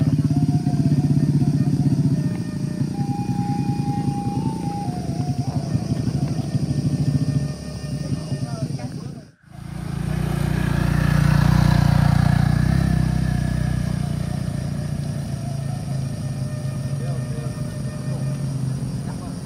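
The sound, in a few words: motorcycle engine accelerating uphill under heavy load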